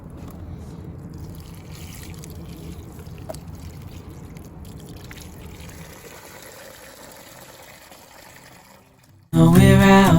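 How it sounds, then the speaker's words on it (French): Water poured from a watering can onto garden plants, a steady trickling splash close by that slowly fades, then cuts off as loud music begins. "On va arroser les plantes."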